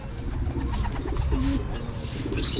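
Breeder pigeons coming down to feed coo in low, throaty repeated calls over a dense, steady rumble of wings and movement in a loft, with a faint chirp near the end.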